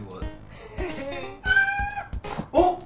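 A cat meows a few times indoors amid a lively household, its cries mixed in among overlapping chatter and excited voices close by.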